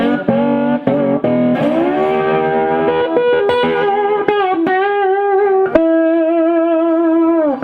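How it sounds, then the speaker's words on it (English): An electric guitar on its bridge humbucker wired in series plays a string of sustained, distorted notes and bends, loud and up close, with no talking. "So like this is the bridge, humbucking series."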